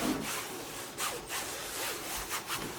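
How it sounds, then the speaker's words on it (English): A Brother ScanNCut cutting machine drives its blade through fabric, producing a soft, close rasping and rubbing with periodic swells, faint and steady without speech. "You hear that beautiful sound? That blade going through the fabric?"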